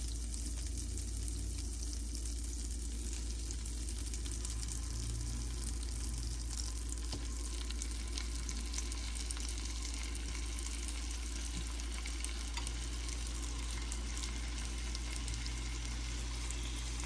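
Oil and a bit of butter sizzle in a hot pan on the stove, a steady, even crackle and hiss that continues alone for the whole stretch.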